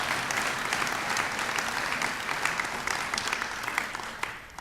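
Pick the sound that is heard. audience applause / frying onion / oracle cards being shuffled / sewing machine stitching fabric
audience applause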